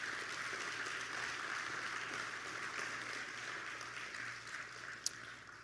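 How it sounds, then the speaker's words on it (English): An audience at a 2023 signing day ceremony claps in a steady, moderately distant wash of applause that holds level and then begins to thin, with one sharp louder clap near the end. "please give them a round of applause"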